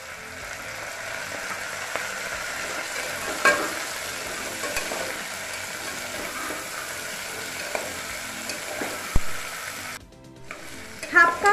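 Potatoes and split dried peas stirred in a frying pan for a spicy potato curry served with kochuri, a continuous sizzle broken by spatula scrapes, and a clattering pause near the end.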